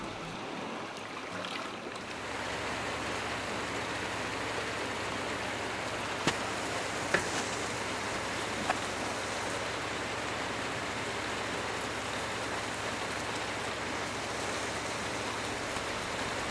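Steady summer rain falling in Caleta Tortel, a dense, even hiss that stays constant throughout with a few faint drips, no voices.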